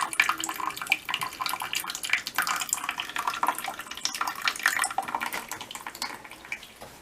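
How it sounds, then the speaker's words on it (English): Water drains from disconnected washing machine hoses into a bucket, a steady splashing trickle with bright spattering that runs continuously and fairly close up, with no voices. "they did have water in them, so it's draining out, and again, hopefully it doesn't fill the bucket"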